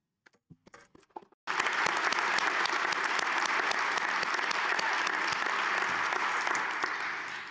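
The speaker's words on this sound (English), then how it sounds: "We applaud you for that." Audience applause at a college commencement ceremony breaks out after a few scattered claps and holds as a steady, dense wash of clapping from a large crowd, fading slightly at the end.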